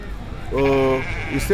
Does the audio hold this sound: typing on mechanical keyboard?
no